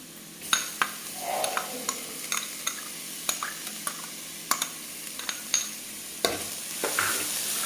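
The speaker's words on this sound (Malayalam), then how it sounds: "ഇനി നമുക്കിതിലേക്ക് ക്യാരറ്റ് ചേർത്ത് കൊടുക്കാം." Onion and carrot sautéing in a pan, a soft steady sizzle punctuated by about a dozen crisp spatula taps and scrapes against the metal, close and clear with no speech.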